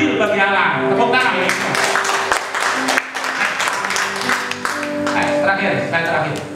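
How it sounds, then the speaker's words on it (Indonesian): Church congregation applauding during a sermon, a dense steady clatter of many hands that runs loud and continuous throughout, with sustained musical tones and some voices mixed underneath. "Tepuk tangan."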